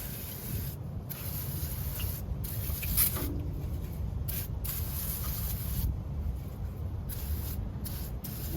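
A spray nozzle hisses while an engine bay is being washed, a continuous spraying rush broken by several short gaps, with low rumble underneath.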